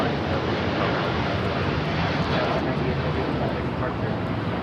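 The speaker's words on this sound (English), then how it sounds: "This is United 198 taking off to Shanghai on the 787-9 Dreamliner." A United Boeing 787-9 Dreamliner bound for Shanghai takes off at Los Angeles airport, a steady, broad jet roar held at a moderate distance throughout, with a voice faintly present beneath it.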